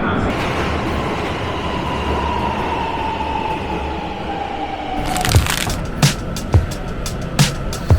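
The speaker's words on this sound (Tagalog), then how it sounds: "antayin na natin yung train natin" A train at a station in Japan hums and whines as it slows, its pitch falling, then a run of sharp clacks and knocks near the end.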